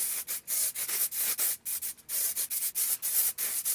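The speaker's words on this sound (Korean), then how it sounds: "이제 전반적으로 가스형 스프레이를 한번 쫙 뿌려줄 거예요." Gas-type aerosol hairspray sprayed over styled hair from a distance, heard as a rapid series of short hissing bursts with brief gaps, close and fairly loud, with no voices.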